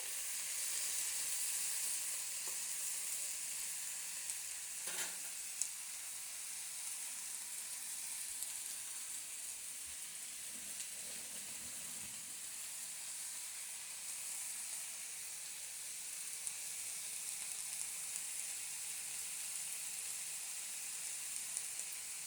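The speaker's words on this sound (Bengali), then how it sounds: "ভালো করে একটু নাড়িয়ে মিশিয়ে দেবো আলু, বেগুন, পেঁয়াজ সব জিনিসগুলোকে" Potato, eggplant and onion sizzle softly in a frying pan as they are stirred, a constant quiet hiss with a few faint scrapes from stirring, heard close with no one talking.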